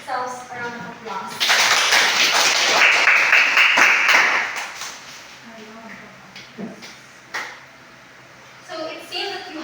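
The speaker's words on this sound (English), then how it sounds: "Give yourselves a round of applause." Students in a math class demonstration give a round of applause, a dense burst of clapping lasting a few seconds before it fades, followed by scattered voices talking.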